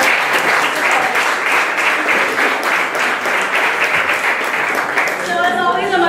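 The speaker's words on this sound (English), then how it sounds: "I think Joe and David should receive another round of applause" A seated audience at a 1 Million Cups startup gathering gives a sustained round of applause for two presenters, dense steady clapping for about six seconds, with a voice just beginning to speak at the very end.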